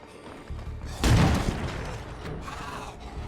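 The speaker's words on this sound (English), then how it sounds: "That sounded like an explosion." A loud explosion-like bang goes off in the zombie survival video game State of Decay 2, a sudden heavy boom that rumbles and crackles as it fades over a couple of seconds, without talk.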